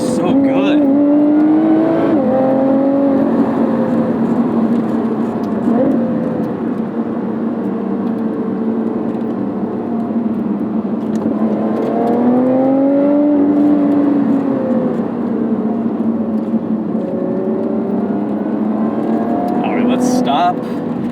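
A 2020 Lotus Evora GT's engine and exhaust drone steadily from inside the car while driving, the pitch repeatedly climbing and easing as it revs through gears, loud and continuous throughout.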